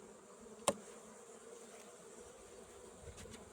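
A honeybee colony hums inside a reed hive, a low, steady buzz with a single sharp knock near the start.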